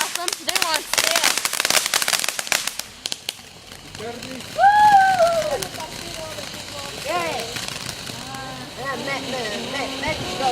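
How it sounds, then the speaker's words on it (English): Fourth of July fireworks crackle and pop in a dense rapid burst at first, then give way to scattered distant bangs under excited voices and shouting nearby. "These fireworks are so awesome."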